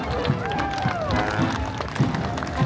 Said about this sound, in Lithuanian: Audringi plojimai jam.